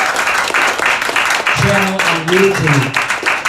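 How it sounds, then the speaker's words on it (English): Applause from the audience at a comedy show for Julian Assange in Washington DC, steady broadband clapping running through the whole stretch while someone speaks over it near the mic. "give you a big round of applause"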